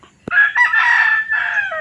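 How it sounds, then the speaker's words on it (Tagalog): A rooster crows loudly and close by among chickens on a rural property, one long drawn-out call preceded by a sharp knock, with soft clucking underneath. "Dami din po ditong manok."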